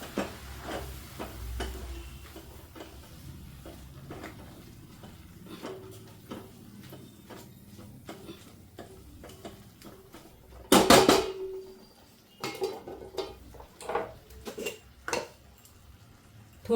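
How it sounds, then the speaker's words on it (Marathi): Fenugreek greens are stirred in a pan on a low flame, with soft scraping and light clinks at a steady pace, then a louder clatter of the pan and utensil near the end. "आता भाजी हलवायची चांगली."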